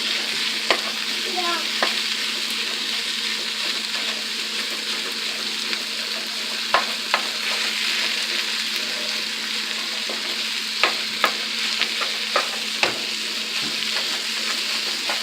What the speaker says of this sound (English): kind of break up the chorizo